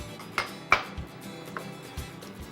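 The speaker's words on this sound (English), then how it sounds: "I'm going to stir that up and incorporate it." Crushed tomatoes and tomato paste being stirred in a metal pot, with a few sharp clinks and scrapes of the spoon against the pot, separated by quiet gaps.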